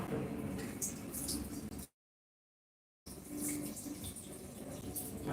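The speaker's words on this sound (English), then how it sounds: "I'm going to wash my" A ladle is rinsed under a running tap while Ghana jollof with green peas and carrots is being cooked, a steady gush of water broken by a brief silent gap midway.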